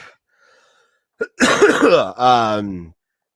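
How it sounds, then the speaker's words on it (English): A person coughs a few times in quick succession, close and loud, with a brief sharp catch followed by harsher, throaty bursts and silence around them. "Still got a little bit of a cough"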